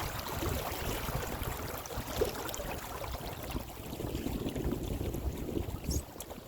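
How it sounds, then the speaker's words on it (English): Steady rushing wind buffets the microphone on open water aboard an Osprey motor sailer, with water sloshing along the hull and gusts swelling and easing throughout. "Oh, here comes some gusts."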